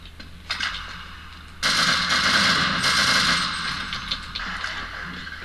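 Gunfire from overpowered guns in the video game Half-Life: Uplink, a sustained loud burst of rapid automatic shots after a brief single report, with mechanical clatter as the firing tapers off.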